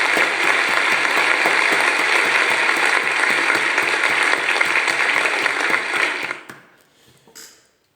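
A steady, dense burst of clapping from a small group stays loud and even for about six seconds, then fades quickly to near silence.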